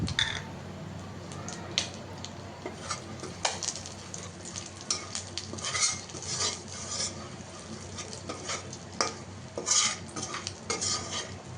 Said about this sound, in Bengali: ফোড়ন দিয়ে হালকা নাড়াচাড়া করে নেব।